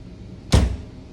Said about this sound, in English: I have to be very quiet when I close my door.